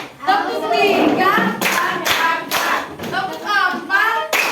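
Schoolchildren clap together in rhythm during a classroom ice-breaking counting game, producing loud, crisp bursts of group claps separated by short pauses, with a teacher's voice heard between them.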